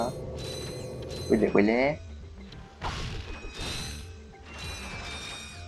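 Mechanical whirring and clattering as bolts are vacuumed up in the Ratchet & Clank video game, with bursty metallic pickups and a rising tonal sweep, while someone speaks briefly.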